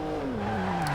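A 2014 BMW M4 in the racing game Forza Horizon 2 drones at steady high revs, its engine tone sliding gradually lower over a second, loud and continuous with no talk.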